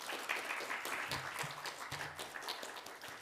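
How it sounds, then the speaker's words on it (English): A conference audience applauds panelists after a food systems, nutrition and climate session, a faint, steady wash of many hands clapping with a few voices murmuring underneath. "So I would like to invite the audience to give a warm round of applause to our"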